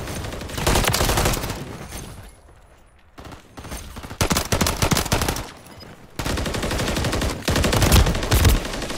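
Rapid automatic gunfire from Call of Duty Modern Warfare 3 ranked play, loud and dense in sustained bursts separated by brief lulls.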